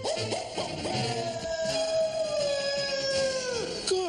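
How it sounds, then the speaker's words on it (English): A cartoon dog in Muppet Babies lets out a long, drawn-out howl that holds steady and then drops off, loud and close, with a few short yelps at the start. "that's a scary bark"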